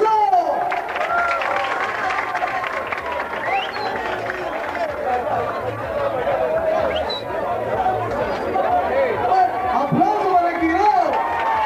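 An audience at a debate breaks into steady applause and cheering for a speaker, the clapping mixed with lively crowd chatter and shouts throughout, fairly loud and close, with voices carrying over it.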